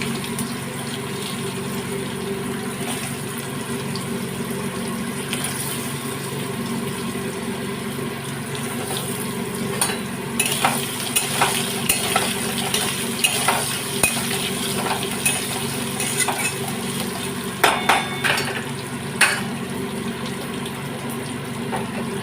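Cut potatoes sizzle and fry in a pan for a papad curry, with steady crackling and occasional scraping stirs growing more frequent toward the end, no voices.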